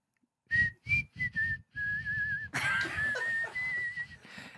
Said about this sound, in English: I can whistle while I smile.